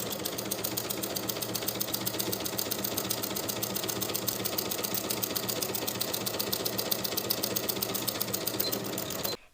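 A sewing machine runs steadily throughout, stitching a 1/4 inch seam along the center back of a summer tank top bodice in cotton-type fabric, a fast, even mechanical whir and clatter that stops abruptly at the end.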